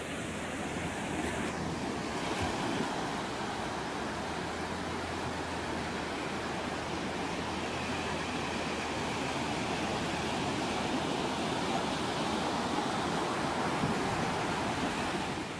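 Ocean waves wash in as a steady, broadband roar of surf with some wind noise, continuous and fairly loud throughout with no talking.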